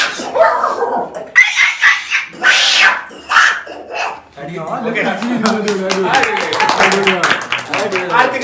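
A voice imitates a snarling dog and a yowling cat scrapping in loud, choppy bursts, then breaks into excited chatter.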